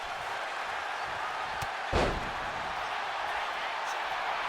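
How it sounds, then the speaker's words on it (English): A wrestler's shoulder takedown slams an opponent onto the mat of a wrestling ring, landing as a single heavy thud midway through over a steady roar of crowd noise. "Shoulder takedown by Amaya, now setting Cassidy Grey up"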